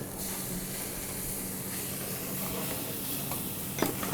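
Chopped onions hit hot oil already frying green chillies for a mushroom coriander curry, giving a steady, close hiss of sizzling that stays even throughout, with a few faint clinks near the end.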